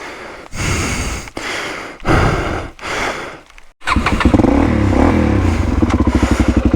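A DRZ400E dirt bike stuck on a rock on a rugged Blue Mountains trail in Australia, its engine blipping in loud, short revs with brief dips, then holding a sustained, pulsing roar up close.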